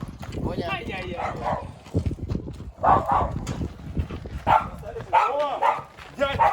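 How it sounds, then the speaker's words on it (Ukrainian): A dog barks several times outdoors in a rural village, the barks loud and close, scattered among people talking nearby. "Это собака Буня."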